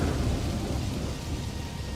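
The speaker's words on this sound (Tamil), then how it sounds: "வெளியே வேகமா காத்தடிச்சு மழை பெய்யவும் ஆரம்பிக்குது" A thunderstorm sound effect with strong wind and heavy rain, a dense rumbling roar that stays loud and steady throughout, no voices over it.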